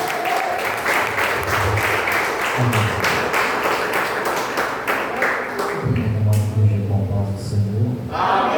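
A church congregation claps during an evening worship service, a sustained, even wash of applause running the whole stretch, with some voices and low sounds underneath.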